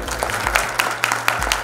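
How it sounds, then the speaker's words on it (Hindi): Audience applause at an award ceremony in Delhi, a short burst of steady clapping from a seated crowd, moderately loud with a low hum running beneath it. "इनके चेहरे को सलाम कर सकते हैं तालियों के साथ।"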